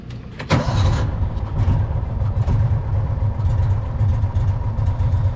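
A tractor engine idles while it warms up. It makes a loud, steady low rumble throughout, with a sharp knock or clunk near the start and no talk.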